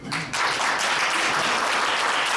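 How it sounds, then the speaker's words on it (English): An audience at a crime prevention and rehabilitation event breaks into loud, sustained applause for a senator, the clapping swelling quickly after a brief voice and then holding steady. "Let's put a round of applause for Senator Dr. McDowell."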